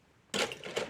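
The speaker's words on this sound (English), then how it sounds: "I used some of my fancy cutting scissors, and then, AKA scissors like this." Decorative-edge craft scissors cut through paper for a junk journal, one crisp crunching snip followed by a second cut, close and fairly loud in a quiet room.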